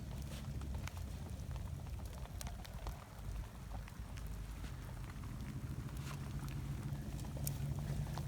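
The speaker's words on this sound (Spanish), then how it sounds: "Aunque está lloviendo, aunque está lloviznando un poco y está mojado" Light drizzle falls outdoors at a campsite where a wood fire is being lit, a soft steady patter of raindrops on wet ground with faint gusts of wind, no voices.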